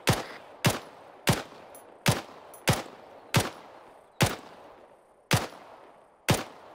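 Suppressive gunfire in a tactical shooter video game, heard as about ten loud, sharp single shots at a steady, slightly uneven rhythm, each with a short decaying echo, with no talking.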